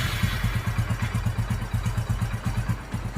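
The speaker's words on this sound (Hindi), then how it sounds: "अब इस बाइक को स्टार्ट करते हैं" A Hero Passion Pro motorcycle with a replaced carburetor runs close by, its engine chugging at a steady, rapid idle with no other sounds.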